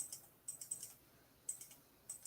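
Faint, close keystrokes on a computer keyboard come in short bursts of quick clicks separated by brief pauses, with no talking.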